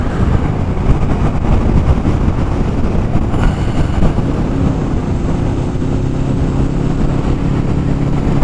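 A Honda Interceptor VTEC motorcycle engine pulls hard under acceleration, a loud, dense roar with wind rush, steady and close throughout.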